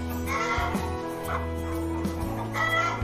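Several free-range village chickens, a flock of young hens nearly at laying age, cluck and call steadily at close range, with overlapping bursts of clucking and no talking.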